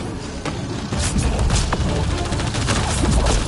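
Sustained video game gunfire crackles loudly and steadily, with sharp individual shots and heavy thumping blasts layered in, growing louder after the first half second and holding at full intensity.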